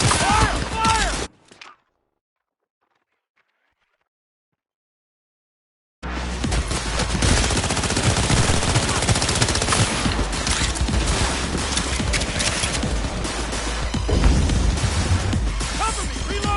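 Dense gunfire from a video game shootout in Cyberpunk 2077 bursts out loud and continuous after a few seconds of near silence, a sustained barrage of overlapping shots and crashes.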